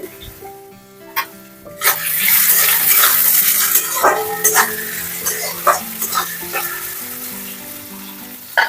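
Soya chunks drop into hot oil in a pan and fry with a loud, continuous sizzle, with stirring scrapes and soft clatter over background music.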